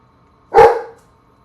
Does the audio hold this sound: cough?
no